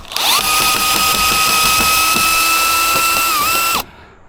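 A power drill boring bolt holes into cured, hard wood for a treehouse, a loud steady high-pitched whine with faint ratcheting clicks, running for nearly four seconds before cutting off abruptly.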